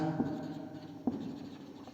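A pen scratches faintly across paper while solving a class 10 real numbers maths exercise, with a couple of soft taps amid quiet strokes and no talking.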